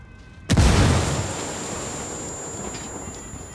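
A frag grenade detonates in Ghost Recon Wildlands, a single sudden boom that hits hard and then rolls off into a long fading rumble, with no voices over it.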